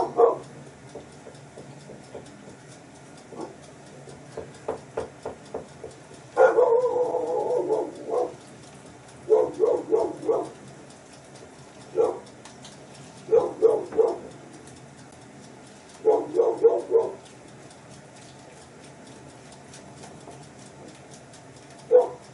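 A dog in a home kitchen barks in repeated short bursts, some quick single yaps and some rapid clusters, separated by brief pauses, fairly close and with no talking.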